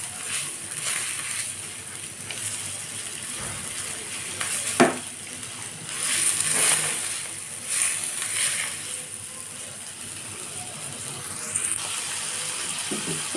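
Chow mein ingredients stir-fried together in a pan, with a steady close sizzle broken by scraping and tossing clatters throughout.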